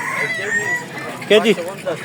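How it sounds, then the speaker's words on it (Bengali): Roosters and hens at a village poultry market in Fatullah: close, loud clucks and a short crowing call rise over crowd chatter. "খুব সুন্দর সুন্দর মোরগ মুরগির কালেকশন আছে।"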